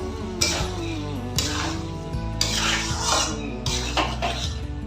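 A metal spoon clinks and scrapes against a pot again and again while sugar is mixed into a vegetable navratan korma, loud and close with a steady rhythm.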